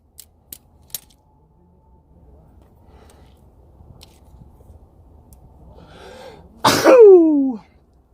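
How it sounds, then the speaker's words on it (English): A single loud sneeze near the end, after a few sharp taps and a stretch of quiet background rumble. "Corona sneeze."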